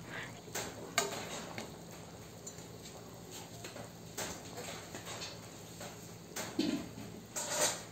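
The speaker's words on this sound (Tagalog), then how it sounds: "kumukulo na, haluin natin ito." A utensil scrapes and clinks against a metal pot in intermittent strokes over a steady bubbling hiss of boiling pork rib sinigang soup, close by with no talking.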